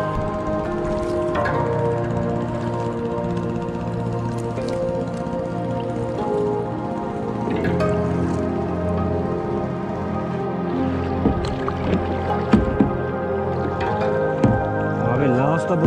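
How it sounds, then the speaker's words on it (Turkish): An oar paddles a small rowboat on a small pool of water in Vietnam. Splashes and drips are steady throughout, with a person talking over them. "Bir de bu kürek nasılsa su atıyor üstüme."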